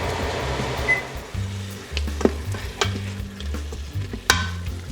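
Onion, garlic and homegrown yellow tomatoes sautéing in a pan, a constant sizzle broken by scraping stirs and a few sharp utensil knocks against the pan, close and fairly loud, with no talking.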